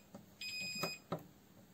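An addressable fire alarm panel sounds its pre-alarm, a faint electronic tone with a few short repeated beeps over roughly two seconds in a quiet room.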